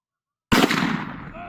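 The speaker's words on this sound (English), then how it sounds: "he lets one rip, and he absolutely nails this turkey" A single loud rifle shot fired at a turkey cracks abruptly out of silence, its boom rolling away in a fading echo over open ground.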